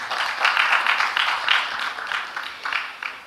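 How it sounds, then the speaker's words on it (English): Applause for a speaker at the 6th International Summit for Packaging Industry, a steady broadband patter of many hands clapping, fairly loud and continuous with slight swells throughout. "Please do give her a big round of applause."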